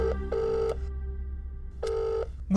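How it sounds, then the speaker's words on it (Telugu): An office telephone rings in loud, clear electronic bursts, two quick pulses, a pause, then another burst, with no talk over it. "రింగ్ అవుతుంది సార్."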